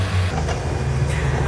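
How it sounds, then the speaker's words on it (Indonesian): An Epson L121 inkjet printer running a nozzle check print, a steady loud mechanical whir and hum with a low motor tone throughout, no voice. "Nah ini posisi printer sudah mencetak nozzle yang kita perintah tadi."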